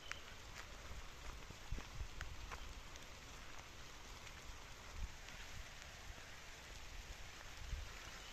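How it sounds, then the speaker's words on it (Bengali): Rain falls on a farm field, a faint, even patter of drops that stays steady throughout, with a few slightly louder isolated drips. "এই যে বৃষ্টি হচ্ছে, দেখতে পাচ্ছেন বৃষ্টি পড়তেছে"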